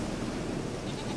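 A goat bleats in The Witcher 3, a single steady call lasting about a second against a dense, noisy game backdrop.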